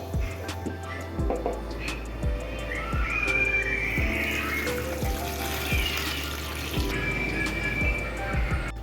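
Cooked beef broth (yakhni) for nihari is strained, giving a steady trickling and pouring of liquid with light splashes that swell and ease over several seconds, fairly close and without talk.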